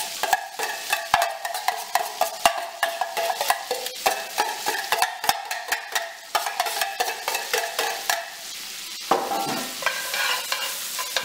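Onions cooking in grass-fed butter in a pan, a close continuous sizzle broken by rapid scraping and stirring strokes of a utensil against the pan bottom, busy and loud throughout.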